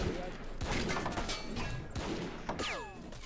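Rapid bursts of machine gun fire crackle across a World War I battlefield at Gallipoli in Battle of Empires 1914-1918, overlapping with other shots and a sweeping whistle-like tone near the end.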